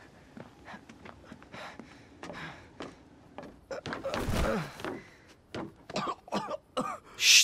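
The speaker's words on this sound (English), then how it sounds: "stop coughing so loud" Repeated coughs and throat clearing in the video game The Evil Within come in short, uneven bursts, growing louder toward the end over faint background noise.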